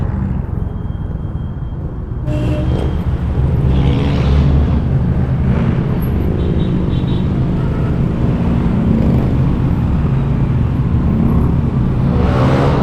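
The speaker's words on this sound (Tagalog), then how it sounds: "Ayun na nga ba sinasabi ko, traffic na." Road traffic in Metro Manila rumbles steadily from inside a vehicle, with passing cars, motors and a broad, loud wash of engine noise that swells after the first two seconds and stays constant, with no talking.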